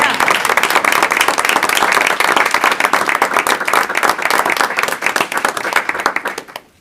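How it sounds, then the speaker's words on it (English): At a high school board meeting, an audience applauds honored kindergarten students: dense, rapid clapping that holds steady for several seconds, then thins into scattered claps before dying away. "Put a round of applause."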